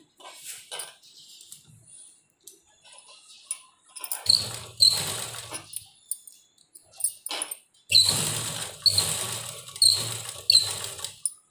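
A sewing machine stitching a fabric sleeve runs in two rhythmic bursts with a low motor hum, separated by brief pauses and lighter handling noise.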